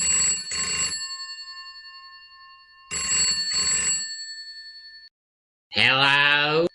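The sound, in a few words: mobile phone ringing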